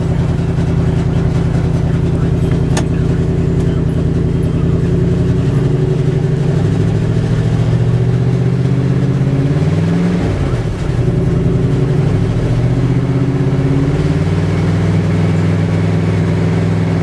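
A 1974 Dodge 318 V8 idles steadily just after a cold start, a loud, continuous low rumble with a brief rev swell near the middle before settling back.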